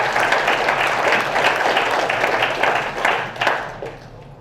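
Audience at a GODAN open data summit breaks into a round of applause, a dense, sustained burst of many hands clapping in a conference hall that swells slightly and then fades.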